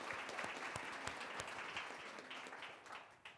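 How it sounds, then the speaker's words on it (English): Audience applause at a diversity, equity and inclusion talk: a dense, steady wash of many hands clapping that holds fairly level and tapers slightly toward the end, with no voices over it. "Let's clap it up."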